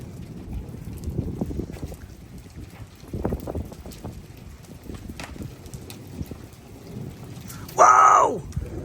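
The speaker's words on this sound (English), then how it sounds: "It is definitely hail, but not golf ball." A hailstorm pounds down with rain and thunder, low rolling rumbles and a steady wash of precipitation building to a sudden, loud, bright clatter of hail near the end.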